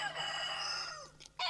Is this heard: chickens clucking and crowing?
yes